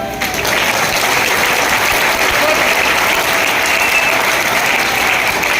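An audience at a sales plan presentation claps steadily, a dense, loud, continuous round of applause from a full room, with no break.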